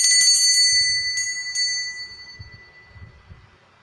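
A small bell is shaken before a playing-card reading, giving a bright jingling burst followed by a couple of lighter taps, then fading away under faint low handling sounds.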